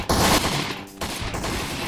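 Gunfire from the video game Postal 3, a loud dense burst of shots that dips briefly and then resumes as a sustained rattle.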